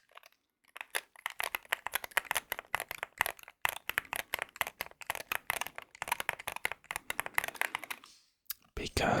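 Rapid, crisp keystrokes on a Wooting 60HE keyboard patter in dense bursts with short pauses, close and clear, ending with a few heavier thumps.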